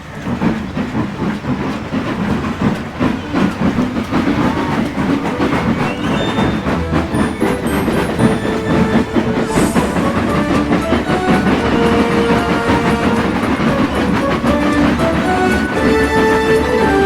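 Toy train engine rolling along its rails with a steady rhythmic clatter and faint hiss, loud and continuous throughout with no talk.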